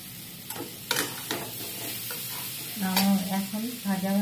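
Potato masala fries in a pan with a steady soft sizzle, while a utensil stirs and scrapes in several sharp, irregular strokes close by.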